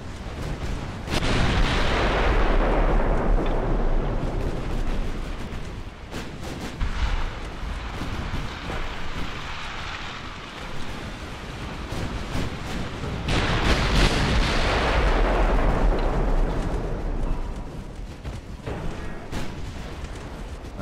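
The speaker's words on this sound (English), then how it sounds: "Torpedo hit." Torpedo hits explode in the naval warfare game Ultimate Admiral: Dreadnoughts, with two heavy, rumbling booms several seconds apart. Each one fades slowly into a continuous din of distant battle noise.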